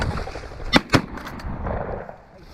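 Two loud, sharp shotgun blasts fired in quick succession at released pheasants and chukars during an upland game-farm hunt, with outdoor background noise and no talking.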